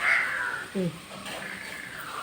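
A crow gives a short harsh caw partway through, in the morning, set against steady outdoor background noise.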